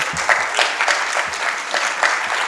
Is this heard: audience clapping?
yes